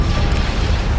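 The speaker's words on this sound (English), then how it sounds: "Ion cannon firing." An ion cannon fires in a Star Wars space battle game during the invasion of Mandalore, a dense, heavy rumbling blast that fills the whole second at close, loud range.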